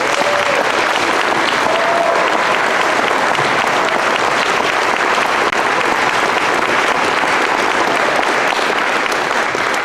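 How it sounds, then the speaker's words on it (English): An audience applauds graduating athletes at a college commitment day, a dense, steady wash of clapping that stays loud and even from start to finish. "Can we have one more round of applause for them?"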